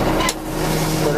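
1979 Ford 9000 dump truck raising its bed, a brief dense mechanical rumble with a continuous engine drone, loud and close throughout.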